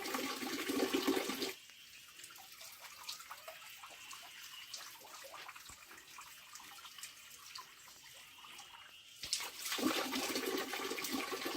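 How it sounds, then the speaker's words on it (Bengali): Drinking water falls from a small hole in the rock of a cave in Meghalaya, a soft continuous splashing that swells louder near the start and end. "ফুটো রয়েছে পাথরের মাঝখানে, সেখান থেকে জলটা পড়ছে।"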